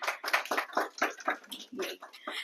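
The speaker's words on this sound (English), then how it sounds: "please give them a big round of applause" Scattered clapping for the Sunday kids who played mridang and kartal at a temple love feast, a small group giving sharp, uneven claps close by that come in loose bursts for a couple of seconds.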